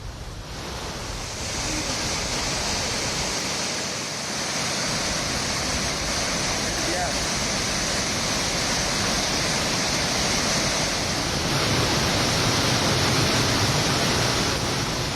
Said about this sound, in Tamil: மேற்கு தொடர்ச்சி மலையில் பெய்த கனமழையால் சுருளி அருவியில் வெள்ளப்பெருக்கு ஏற்பட்டுள்ளது